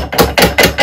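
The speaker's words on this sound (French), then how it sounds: "Et on va y aller au marteau." A hammer strikes a clamped wood rasp protected by cardboard pads, four loud, evenly spaced blows in quick succession, close and dominant.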